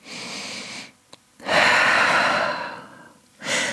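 Deep breathing in a downward dog yoga pose: two long, loud exhales through the mouth and nose close to the mic, separated by a short pause, with another breath starting at the end.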